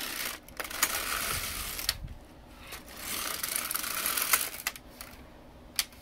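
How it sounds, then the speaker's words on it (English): An LK 150 knitting machine carriage runs back and forth across the needle bed, giving repeated rattling mechanical sweeps with sharp clicks at each end of the row, close by and moderately loud. "Now I'm going to knit 6 rows."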